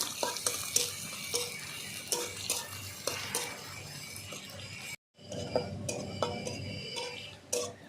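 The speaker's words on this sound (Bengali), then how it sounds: "পেঁয়াজটাকে ভালো করে একটু লাল করে নেব আগে" Four small chopped onions fry in a pan for a spicy bata fish curry with curry leaves, a steady crackling hiss broken by scraping, ratchety stirring clicks, with a brief drop to silence midway and no talking.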